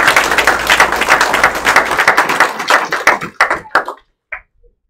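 An audience at a school signing day event claps in a dense burst of applause that thins into a few scattered claps and then stops.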